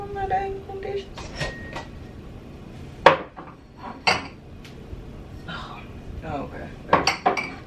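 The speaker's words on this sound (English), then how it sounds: "I'm in the midst of putting up dishes" Dishes and cutlery are put away in a home kitchen: scattered clinks and clatters of plates and silverware, with a few sharper knocks, come close by, and someone briefly speaks.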